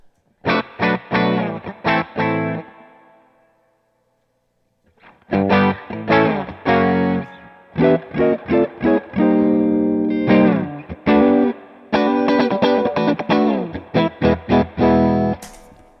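Dry electric guitar signal going straight into a Coppersound Strategy preamp and clean boost pedal, heard as bursts of strummed chords and short riffs with brief gaps, clear and loud, no voices.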